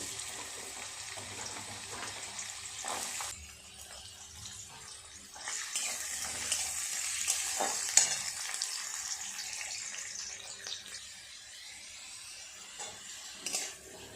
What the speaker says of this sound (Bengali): তেলটা ভালোভাবে গরম হয়ে গেছে। গাজর আর আলুগুলো আগে ভেজে নেব।